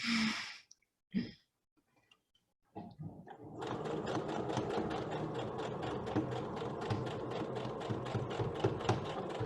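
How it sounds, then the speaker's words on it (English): A sewing machine stitches a homemade cloth mask, starting after a few seconds of quiet with small handling clicks and then running in a steady, loud, close rhythmic whir to the end, with no talking. "And continue sewing and then we'll be done."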